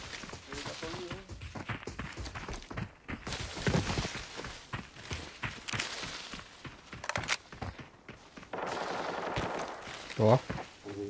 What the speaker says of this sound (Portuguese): Tiro dentro do hotel, viu?